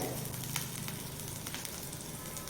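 A spoonful of cumin seeds sizzles in hot oil over a medium gas flame, a dense, even crackling hiss held close and steady throughout with a few sharper pops.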